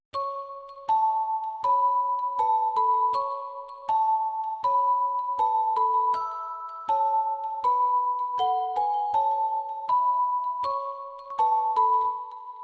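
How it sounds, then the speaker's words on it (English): Music box bell preset from the Keyscape instrument in a lofi beat chimes a repeating two-note pattern of bright, plucked tones with quick decays, quiet and alone with no voices. "The bells are from Keyscape."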